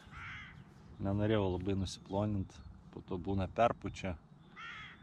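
Harsh cawing calls ring out several times in quick bursts, loud and close, beside the Neris River in Vilnius, mixed in with a person talking.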